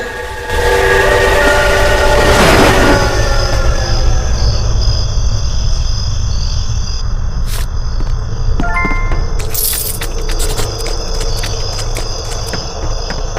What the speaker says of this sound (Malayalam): നമ്മൾ ട്രെയിൻ വിട്ടിട്ടുണ്ട്.